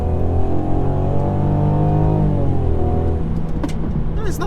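A 2019 Mercedes C300 drives along with a loud, steady engine drone and road rumble that rises as the throttle opens, with the rear brought round under power and a few faint knocks toward the end.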